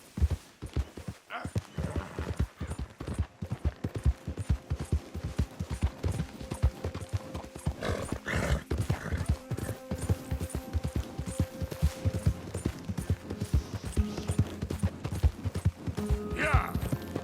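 A horse gallops in Red Dead Redemption 2, its rapid hoofbeats pounding steadily throughout with an occasional snort or whinny, and a voice speaking briefly over the clatter.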